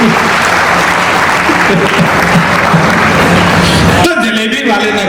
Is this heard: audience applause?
yes